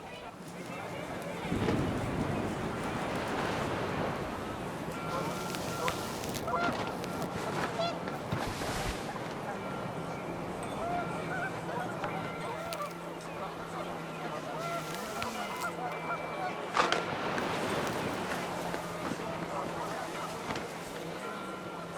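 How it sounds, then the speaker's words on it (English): Panicked geese honk repeatedly in a windy outdoor scene in the video game What Remains of Edith Finch, their calls scattered over steady wind noise while a narrator speaks throughout. "The wind picked up, and panicked geese appeared and quickly went."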